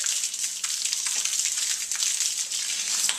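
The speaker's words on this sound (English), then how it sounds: "So just rinse it off real quick." Water sprays onto a bicycle's front wheel during a wash, a steady hissing spray with small splattering bursts throughout, fairly close and loud.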